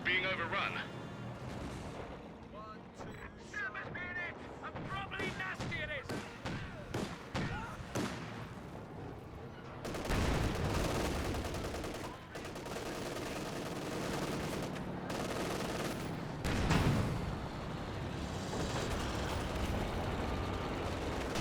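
Tank cannon blasts and gunfire in a Company of Heroes 2 battle between a Cromwell and a Panzer IV, sharp booms and crackling shots mixed with rumbling, under continuous commentary.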